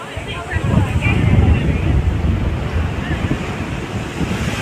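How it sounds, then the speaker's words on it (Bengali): Strong wind buffets the microphone on the Busan coast, a loud, close, continuous roar with gusting surges and a wash of surf beneath. "প্রচণ্ড হাওয়া দিচ্ছে।"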